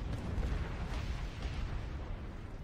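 Cannon fire from a ship battle in World of Warcraft, a dense rumbling barrage of blasts and booms against a ship, heavy and continuous for a couple of seconds without any voice.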